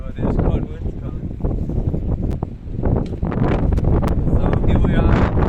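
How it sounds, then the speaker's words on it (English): Strong, cold wind buffets a sailboat preparing for heavy weather, gusting and roaring across the microphone continuously and loudly while people talk. "It's already pretty windy actually, and cold."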